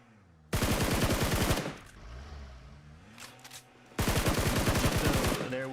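Rapid automatic gunfire in a competitive video game scrim, two loud sustained bursts of about a second each separated by quieter engine and game sounds.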